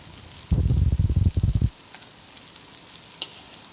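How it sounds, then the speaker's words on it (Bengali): Red lentil fritters deep-frying in oil, a loud burst of crackling and bubbling for about a second before dropping to a faint, quiet sizzle. "দেখতে পাচ্ছ এই ডালের বড়া ভাজি মুসুরির ডালের বড়া"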